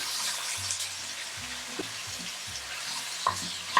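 Ground hamburger and pork sizzle and fry in a pan for a ragu sauce, with steady broadband frying hiss, low scraping stirs and occasional sharper clinks of a utensil against the pan.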